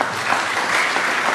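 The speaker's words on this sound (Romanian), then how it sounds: "Aplauze pentru toată echipa." A crowd at a cultural autumn event in a community hall applauds the whole team, with dense, even clapping throughout a short burst.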